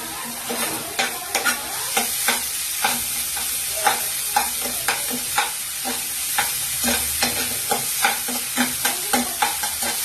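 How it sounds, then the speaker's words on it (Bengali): Pointed gourd seeds frying in mustard oil for a stuffed potol dolma filling, a loud steady sizzle broken by rhythmic spatula scrapes and stirs, close and without talk. "পুরটার জন্য পটলের দানাটা ভালোভাবে করে ভাজা ভাজা হচ্ছে"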